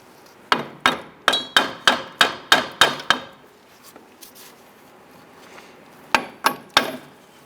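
A hammer taps repeatedly on the front shock unit of a 1994-2004 Ford Mustang during a strut mount replacement, with nine quick metallic blows, a pause and a few softer knocks, then three more strikes.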